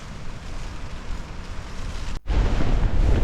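Strong night wind buffets a hillside campsite at Pesona Go Puncak Camp in Bogor, a steady broadband roar that surges louder after a brief lull, with no voices.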